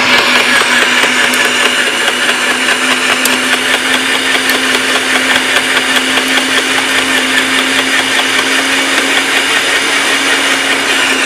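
A Sun Joe electric wood chipper-shredder whirs loudly and continuously with a steady motor hum and rough grinding texture as plant stalks are fed through, with no talking.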